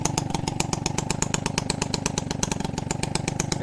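Peugeot 103 RCX moped with a new Dellorto SHA 15 15 carburetor running steadily just after a first kick start, a fast, even two-stroke putter with a rapid regular pulse, close and alone.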